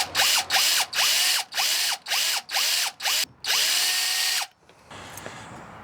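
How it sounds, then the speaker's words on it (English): A power drill bores a hole for a garage door bolt escutcheon in short, loud bursts of whine that rise and stop, about seven pulses, then a longer run before going quiet. "we can then drill the second hole"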